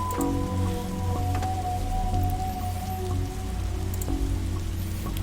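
Steady rain falls in The Darkside Detective, a soft continuous patter with occasional sharper drops, over a low ambient hum and a faint sustained tone.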